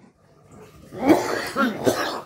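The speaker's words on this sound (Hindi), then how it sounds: "यार खांसी बहुत है।" A man gives a short bout of throaty coughs, two or three rough bursts close to the microphone after a quiet start.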